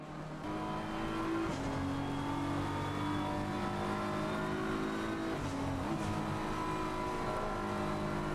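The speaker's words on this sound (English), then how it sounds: "Let's ride on board with this BMW M4." A BMW M4 GT3 race car in the Assetto Corsa Competizione video game, heard onboard at Mount Panorama in the rain, drones steadily with its engine rising through the gears and briefly dropping at shifts, with no voices.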